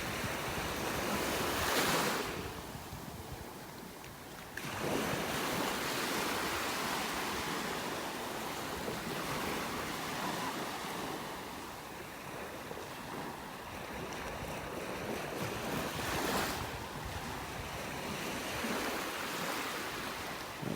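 Ocean waves breaking on a beach in North Naples, Florida, a continuous loud wash of surf with swelling crashes every few seconds, mixed with wind buffeting the microphone.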